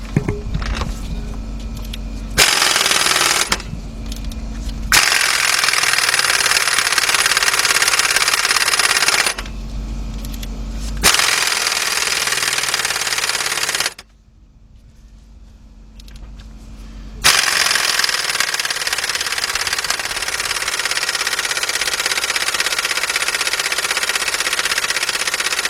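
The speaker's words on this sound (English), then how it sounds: "we got our compressor going" An air compressor runs loudly and steadily nearby while work is done on a loose, wobbling harmonic balancer of a 1994 Honda Accord 2.2, its drone cutting off and restarting several times with short gaps, no talk.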